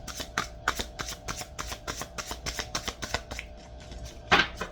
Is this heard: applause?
no